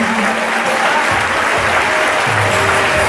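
A church congregation clapping hands, loud, dense and continuous applause filling the room, with faint voices underneath.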